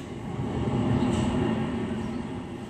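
A roller coaster train dispatched in the NoLimits Coaster Simulator game gives off a steady, continuous rumble for close to three seconds, loud and even throughout with no talking over it.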